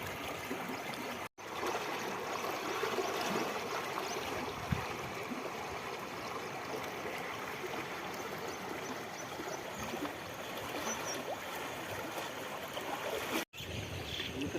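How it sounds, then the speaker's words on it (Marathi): A small village river flows steadily, a soft, even rush of water with faint gurgling, continuous and distant-sounding throughout. "तुम्ही बघू शकता ही नदी आहे, एकदम मोठी नदी नाही आहे, छोटीच नदी आहे"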